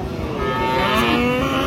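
Cattle at the Raniganj cattle market in Dinajpur, where Friesian cross bull calves are sold, let out a loud, drawn-out moo close by with no talk over it.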